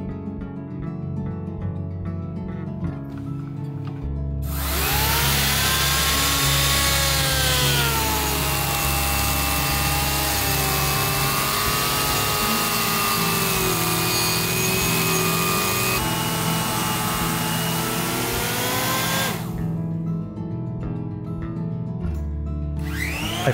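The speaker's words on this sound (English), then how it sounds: "I first lightly plane the wood with an electric plane before planing by hand." A steady, loud machine whine with a grinding rasp runs for about fifteen seconds, rising abruptly and cutting off, as an electric plane shaves pine wood.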